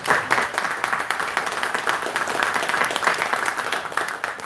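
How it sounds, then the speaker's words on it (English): A church congregation claps for the deacon after his lesson, a moderate, continuous round of many hands with a slightly uneven swell, unaccompanied by speech. "Give him another round of applause."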